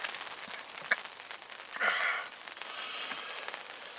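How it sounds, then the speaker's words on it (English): Heavy rain pouring outdoors by a lake, a continuous hiss of drops with scattered sharper pattering hits and a brief louder gust of spatter near the middle. "it's pouring with rain as well"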